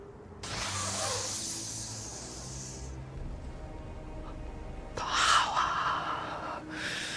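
A witch in Hocus Pocus 2 takes a long, loud breathy inhale, followed after a pause by two more short, forceful sniffs, close up.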